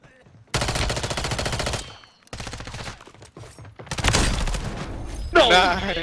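Call of Duty SMG fire in sustained loud full-auto bursts, separated by brief pauses, with a player's voice talking over part of the shooting.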